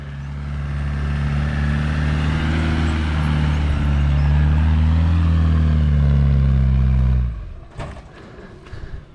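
A car labors uphill in low gear, its engine droning and climbing in pitch as it revs hard for several seconds, then cutting off abruptly, leaving a few faint clunks and rustles.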